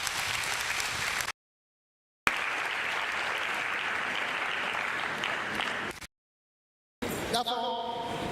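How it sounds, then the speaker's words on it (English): Audience at a university fundraising lecture giving a round of applause, sustained dense clapping in bursts broken by abrupt silent gaps, with a voice briefly heard near the end. "Please give me a round of applause."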